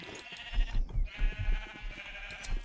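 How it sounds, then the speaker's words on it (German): Sheep in the Minecraft video game bleat repeatedly in short pulses, set over a steady high-pitched hiss of game background sound, with no talking. "Oh, die ganzen Schafe, ne?"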